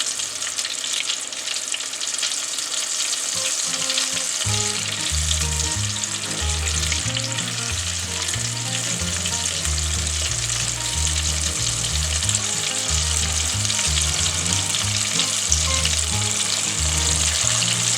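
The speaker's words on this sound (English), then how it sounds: "That's a good sign when you put it in oil like that and it starts bubbling like that." Gator balls fry in hot oil with a steady, loud sizzle and a dense bubbling crackle, while a rhythmic low music track plays underneath throughout.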